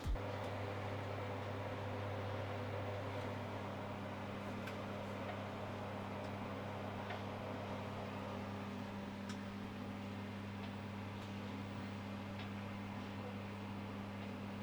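Steady low hum of a microwave oven running while cooking an egg snack, a continuous even drone with faint ticks, unbroken throughout and without voices.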